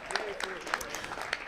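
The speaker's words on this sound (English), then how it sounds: "So a round of applause for our local representation." At a village's 40th anniversary celebration, an audience gives brief, scattered applause for local representatives, with voices talking over the claps.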